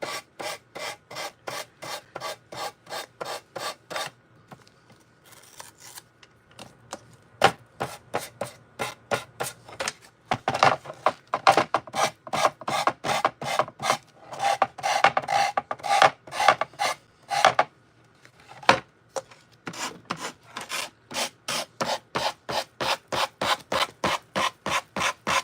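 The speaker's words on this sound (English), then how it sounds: "Then I just want to sand down the areas." Sandpaper works over a resin and decoupage wall art piece in a fast, rhythmic series of close, raspy back-and-forth strokes, with brief pauses between runs.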